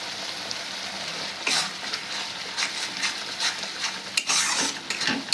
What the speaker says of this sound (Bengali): মিশিয়ে এই মশলাটাকে এবার ভালো করে কষাতে হবে।